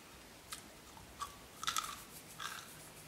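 Crunchy bites and chewing on a crispy, fluffy-centred bread roll baked in a Thermomix TM5, a few brief crackling bursts close up against a quiet background, no talk.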